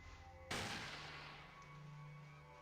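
A single gunshot from a 10mm pistol in the Fallout video game: one sharp, loud crack that decays into a short echoing tail, heard alone without talking over a quiet game background.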